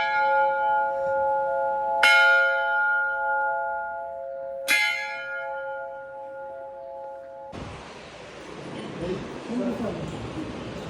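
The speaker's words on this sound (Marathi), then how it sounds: "वाजव घंटा." A temple bell at a Shiv cave strikes twice, each clear metallic clang ringing out and slowly decaying, before a rushing, noisy background takes over.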